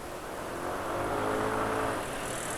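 An older Yamaha NMAX motor scooter engine, running on Pertamax Turbo fuel, holds a steady revving drone that swells slightly and eases off, close and fairly loud with no talking.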